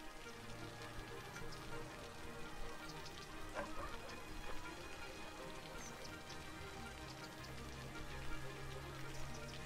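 Rain falling on city roads in the video game Cities: Skylines, a steady soft patter and hiss of raindrops throughout, faint and continuous with no talk.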